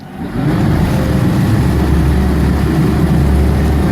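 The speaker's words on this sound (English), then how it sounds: "I'm going to kick one motor." A single outboard motor on a 2007 Prokat 2860 boat runs at a steady, loud idle close by, a constant low rumble that starts after a brief rise and goes on without talk.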